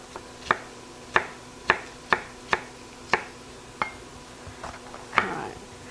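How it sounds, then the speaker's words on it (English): Knife chopping vegetables on a cutting board while a ground beef stroganoff is cooked, a series of sharp, close single chops at an uneven pace, thinning out toward the end with a few lighter taps. "just going to finish chopping this one up"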